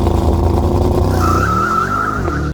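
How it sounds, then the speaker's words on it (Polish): A Mercedes-AMG SL 63 roadster's 4.0 V8 exhaust roars loud and close, a deep, sustained growl that shifts pitch as the engine revs, cut off abruptly at the end. "ten wydech brzmi jak szatan"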